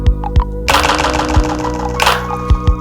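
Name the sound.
OP-1 delay feedback left high, delay continues after release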